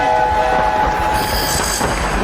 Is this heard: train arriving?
yes